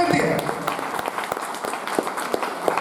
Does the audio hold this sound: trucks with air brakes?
no